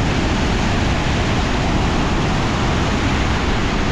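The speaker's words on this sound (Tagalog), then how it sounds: "Grabe alon, no? Mas matindi pa alon niya sa dagat." Strong waves surging in a steady, loud, unbroken roar of broadband rush with no pauses and no voices.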